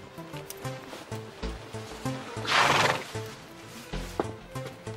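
A horse whinnies loudly midway while hooves clip-clop in an uneven rhythm nearby, with faint rustling in the background.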